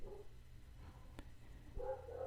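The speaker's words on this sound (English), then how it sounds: "My dog will bark." A dog barks faintly a couple of times in the background of a quiet room, distant and brief over low hum.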